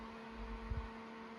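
A Secret Jardin Power Pack grow box ventilation fan running, a faint steady electric hum with a constant tonal drone and one brief low thump partway through.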